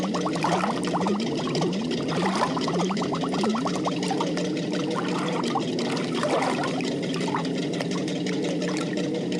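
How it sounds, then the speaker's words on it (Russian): Pink soap solution pours into a compartment of a toy boat, a close, steady trickling stream with bubbling gurgles that runs without a break and no voices. "Отсек с розовым кругом наполняем мыльным раствором розового цвета."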